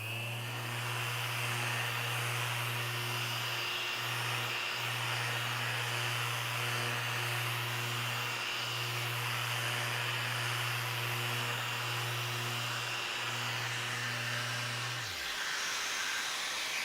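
A small power sander fitted with 600 grit paper whirs steadily in a woodworking shop, a loud continuous hum with slight pitch dips, then winds down and stops near the end.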